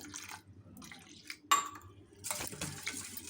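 Short splashes of water poured into a bowl of thick yogurt, broken by pauses, followed by a brief clink and a wet gurgling pour; quiet and close.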